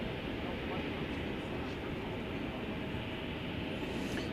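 An American Airlines jet bound for Mexico City rumbles steadily and loudly as it takes off from runway 18 left at DFW airport, a constant broad roar with a faint higher whine near the end.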